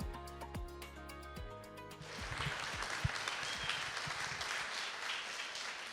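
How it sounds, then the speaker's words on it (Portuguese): A church congregation breaks into applause to welcome a guest speaker, the clapping starting after a brief musical passage and continuing as a steady, moderately loud wash of hands to the end. "Vamos receber com muita alegria e uma grande salva de palmas o nosso preletor convidado, Everson Spolaor."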